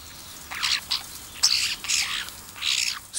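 Starlings call in a series of short, harsh, bright squawks and chatters in four or five bursts, moderately close, with no talking.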